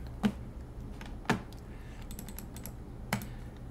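Keys clicking on a computer keyboard as a parts list is typed in, a few sharp separate taps and lighter clicks, close and quiet, with no voices.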